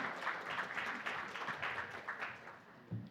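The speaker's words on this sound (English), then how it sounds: "A huge round of applause for him." An audience at an insurance claims fraud panel event applauds to welcome a panelist on stage, a moderate, steady patter of clapping lasting a few seconds, fairly distant in the room with no talk over it.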